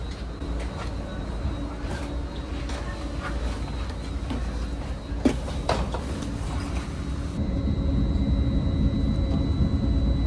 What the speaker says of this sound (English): I got to ride on the new Caltrain rolling stock, these double-decker trains.